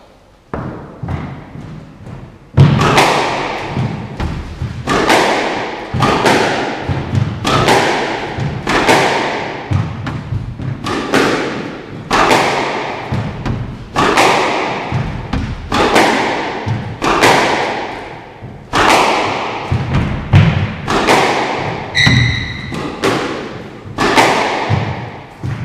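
An Eye V-Lite 125 Control squash racket drives a ball in repeated power shots: loud, sharp thwacks roughly every second and a half, each ringing briefly off the court walls, with no talking.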